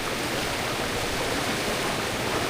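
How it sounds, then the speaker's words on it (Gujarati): Floodwater surges through Shiyal village in a steady, dense rushing roar that fills the whole short stretch without pause. "શિયાળ ગામમાં ઘોડાપુર આવ્યું છે."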